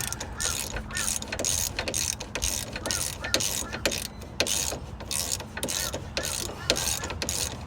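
A wrench ratchets repeatedly while tightening down a front brake part on a 4th-gen Firebird/Camaro, giving a close, steady series of sharp clicks with brief pauses between strokes.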